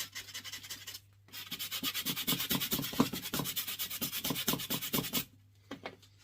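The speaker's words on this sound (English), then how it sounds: "gentle sanding." Hand sanding close up: a steady run of rhythmic back-and-forth rasping strokes, with brief pauses at the start and end.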